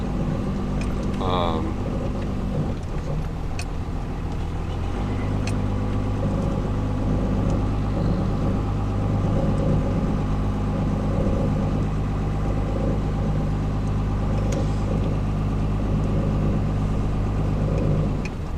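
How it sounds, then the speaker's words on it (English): A heavily lifted truck with a 24-valve engine, set up for 40-inch tires, runs steadily while towing. A low, continuous engine drone holds throughout under road rumble, with no talk. "But how does the truck tow? Actually tows pretty good."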